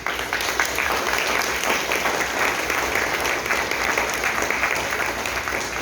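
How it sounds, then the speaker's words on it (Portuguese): A congregation applauds during a Baptist church morning service on Deacon's Day, with dense, steady clapping filling the whole stretch at an even level. "Vamos dar uma salva de palmas para esse pessoal?"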